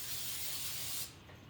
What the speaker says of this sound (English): we're gonna spray this time.